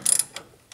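A torque wrench ratchets while tightening the top bolt of a stabilizer link on a 2005 Ford F250, giving a quick burst of close, sharp clicks followed by two brief single clicks.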